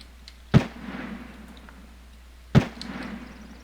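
Two distant .45 caliber gunshots ring out in the modded video game Daizy Factions. Each is a single booming crack with a short rumbling tail, about two seconds apart, over quiet ambience.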